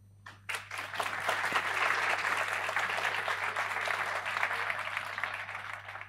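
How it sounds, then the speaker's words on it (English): An audience at the T3chFest tech conference bursts into applause, with dense, steady clapping from a sizable crowd that swells quickly and holds for several seconds before beginning to thin. "An applause, please"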